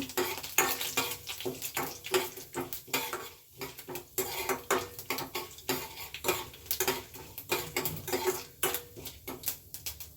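Chana dal fries in a pan with a light, steady sizzle while a metal spoon stirs and clinks against the pan in quick irregular taps, all close and fairly quiet.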